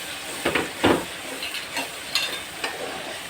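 Chorchori being stirred in a cooking pan: a soft background sizzle with several scraping strokes of the spoon against the pan, close and fairly loud, with no talking.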